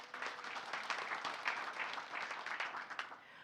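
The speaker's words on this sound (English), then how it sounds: "Let's give her a round of applause, too." Audience at a university alumni scholarship volunteer information session breaks into steady applause, a dense, even patter of many hands filling the room without pause and tapering slightly at the end.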